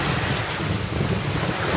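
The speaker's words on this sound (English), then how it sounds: "there's quite a lot of wind, and the boat's moving quite fast through the water" Strong wind roars over the microphone with waves rushing past the hull of a sailing boat moving fast at sea, a dense, constant wash of noise with no pauses.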